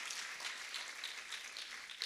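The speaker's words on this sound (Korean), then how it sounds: "우리 하나님께 영광의 박수 한번 올려드리겠습니다." A congregation claps at a Sunday worship service in a Seattle Korean church, giving praise to God. The applause is steady, dense and hissing and runs evenly through the whole moment at moderate distance.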